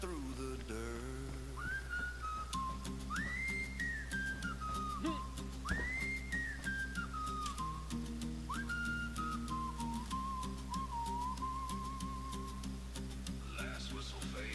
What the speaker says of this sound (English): Last whistle fades into silence.